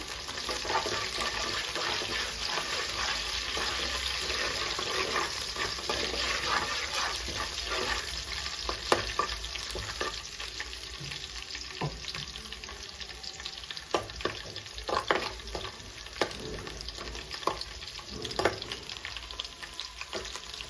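Finely cut ginger pieces fry in a pan for a paneer palak curry, a steady close sizzle crackling throughout with scattered louder pops and spits.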